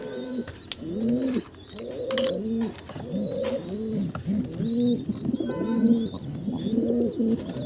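Pigeons coo repeatedly in close, rhythmic throaty phrases, with a few faint chirps and clatters in the background.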